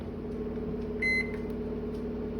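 A microwave oven heating M&Ms hums steadily and loudly throughout, with a brief electronic beep near the middle.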